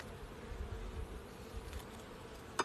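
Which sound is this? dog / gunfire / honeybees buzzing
honeybees buzzing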